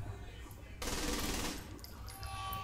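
Automatic gunfire in Saints Row 3 Remastered during a raid on an enemy base, a sudden loud burst of rapid shots that swells then tapers, with faint game ambience around it.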